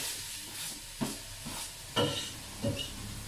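Onions frying in oil in a pan for a Jewish breakfast dish, a steady close sizzle broken by three sharper scraping stirs at roughly even intervals.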